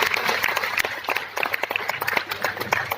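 An audience claps at a ceremony, giving a dense, continuous patter of many hands with small swells in loudness.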